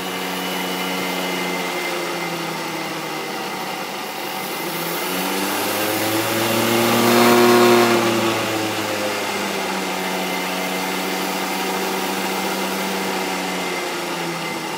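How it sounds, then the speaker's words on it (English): A treadmill motor fitted to a Bridgeport milling machine runs at a steady whine, ramping up in speed and pitch to a peak midway before easing back down, with a continuous mechanical hum throughout and no talking. "I'm running the motor way faster than what it should be."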